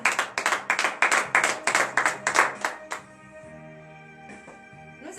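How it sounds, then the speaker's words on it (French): Rhythmic group clapping at a morning prayer service, steady claps for about three seconds before fading into a lingering reverberant tone with a faint voice near the end. "nous allons encore donner de vives acclamations à l'Éternel"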